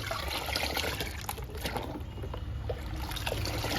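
Water swirling and sloshing as a liquid plant feed for indoor plants is stirred into water, a soft continuous churning with faint trickles, no voices.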